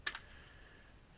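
A couple of quick computer keyboard keystrokes click close by while a folder name is typed, followed by faint room hiss.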